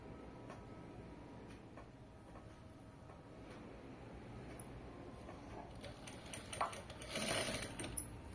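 Home sewing machine stitching fabric, a faint steady rapid ticking whir running throughout, quiet and close, with a few louder handling bumps near the end and no speech.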